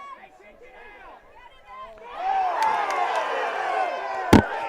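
Soccer crowd at Ives Lamel Family Field cheering loudly during a men's college match between Brevard and Sewanee, a roar swelling midway and staying strong, with a sharp bang near the end and a commentator's voice at the start.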